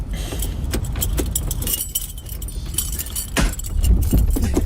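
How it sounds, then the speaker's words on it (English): A bunch of keys jangles and clicks as someone fiddles with it near a car, irregular metallic rattles and sharp chinks, close and fairly loud, with a few thumps. "He's literally fiddling with the keys."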